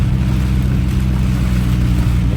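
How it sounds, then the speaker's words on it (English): A big truck passes close by on a rain-soaked road during heavy rainfall in Québec, a steady loud low rumble mixed with broadband hiss of spray and rainwater thrown off the tires, continuous throughout. "So now the truck which I was talking about, he just passed me."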